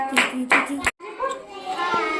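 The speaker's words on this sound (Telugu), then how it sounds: "అంటే రిషిక క్లాప్స్ పెట్టండి." Children in a government school classroom clap briefly in bursts, close by, while a voice and other young voices overlap the applause.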